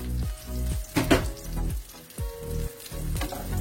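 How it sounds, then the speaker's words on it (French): Aubergine slices frying in a pan, a close, steady sizzle with crackling pops and a few soft clicks, no talking. "Et on les laisse cuire 2 minutes."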